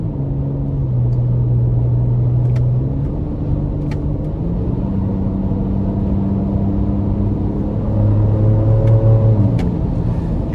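A Ford Ranger Raptor with the 3-liter EcoBoost engine accelerating hard through paddle-shifted gears, the engine note rising in pitch, dropping at each shift, then climbing again, loud and close inside the cabin.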